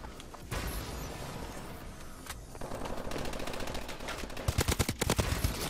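Call of Duty Advanced Warfare gunfire: sustained rapid automatic shooting, fairly faint at first and building to sharper, louder bursts of distinct shots near the end, with no talking.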